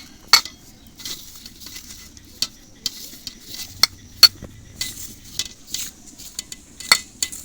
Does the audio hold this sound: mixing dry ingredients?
yes